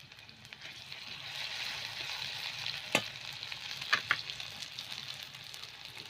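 Chopped onion and garlic paste frying in hot oil, giving a steady hissing sizzle that swells after the first second, with a few sharp clicks and scrapes of stirring.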